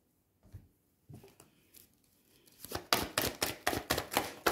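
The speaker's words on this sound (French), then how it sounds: "je tire les cartes à l'avance" Tarot cards are handled and drawn, with a few soft scattered flicks at first, then a quick run of sharp, close card snaps and riffles in a steady rhythm.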